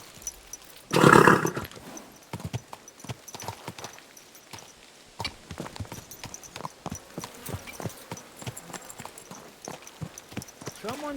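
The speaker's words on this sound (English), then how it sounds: "Easy, good horse." Horse hooves clip-clopping in Kingdom Come Deliverance II, a steady rhythmic run of close hoofbeats, with a brief loud roar or whinny-like burst near the start.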